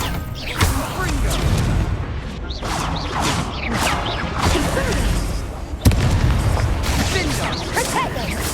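Confringo spell explosions burst in Hogwarts Legacy combat, repeated booming blasts and whooshes amid a loud, busy battle with a sharp crash near the middle; a voice shouts over the din.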